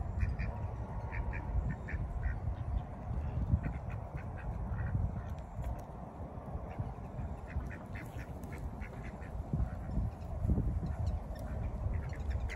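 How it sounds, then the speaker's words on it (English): Repeated black-bellied whistling duck calls, some in short bursts, over a steady low rumble of background noise outdoors. "Black-bellied whistling duck."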